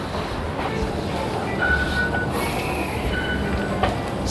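A train in Taiwan rumbles steadily along the rails with a faint wheel squeal and occasional clicks, a continuous close ride-along sound with no talking.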